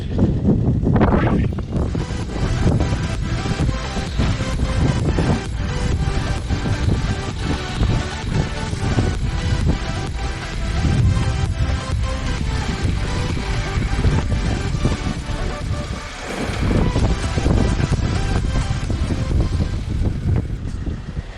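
Strong, steady wind buffeting a microphone outdoors beside a Suzuki LTR 450 quad, a dense low rumble that barely lets up for the whole stretch, with gusts swelling and a brief lull near the end.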